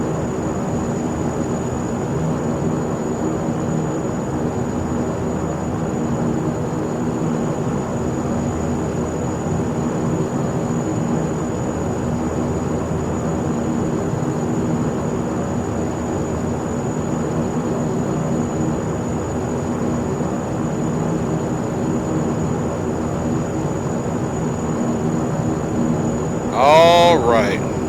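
Steady, loud turboprop drone of a Saab 340 taxiing in X-Plane 11, a continuous low engine hum with a high whine that holds unbroken for nearly the whole stretch, ending in a brief louder burst.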